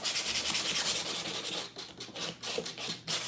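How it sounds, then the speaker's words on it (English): Small wooden drawers are sanded by hand with steady back-and-forth rubbing strokes, continuous at first and then breaking into distinct rhythmic swipes, close and fairly quiet. "Sanding our little drawers."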